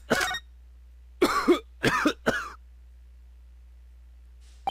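Four harsh coughs burst out close by in the game The Great Ace Attorney: Adventures, one alone and then three in quick succession, with silence between.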